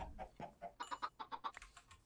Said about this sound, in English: Sorry, little chicken.